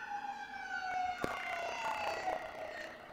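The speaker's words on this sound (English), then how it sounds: "Sirens and cars and honking, screeching." A wailing emergency siren rises and falls over distant city traffic noise, with a brief clatter partway through.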